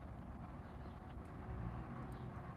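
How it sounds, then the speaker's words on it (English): Steady low rumble of road traffic passing by outdoors beside a tree line, a continuous broadband wash that swells slightly midway, with no voices present. "Just enjoying the sounds of the traffic as it goes by"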